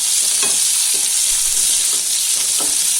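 Small onions hit hot oil for an egg gravy and sizzle loudly and steadily, close to the pan, with a few soft stirring taps mixed into the hiss and no talking.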